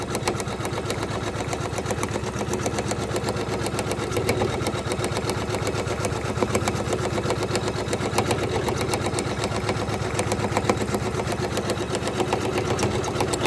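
Janome 500e embroidery machine stitching a design onto a hat keeps up a steady, fast, even rattle of needle strokes at close range for the whole stretch, with no voices.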